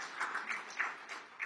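Church congregation applauding together during a sermon, a steady wash of many hands clapping at moderate distance, with no voices over it.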